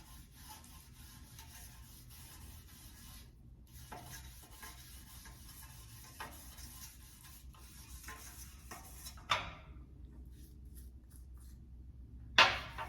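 Cleaning paste being rubbed and stirred across a silver plate, a steady soft scraping and swishing close by with a few sharper clinks, no talking.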